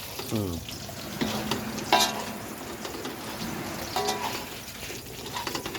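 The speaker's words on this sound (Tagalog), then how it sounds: "Ito, mainit. Mantika. Ayan, naluluto na yung ating Piniprito." Food frying in hot cooking oil outdoors by the beach, a steady crackling sizzle with stirring clatter and a few scrapes, moderately close, with light wind-like background noise.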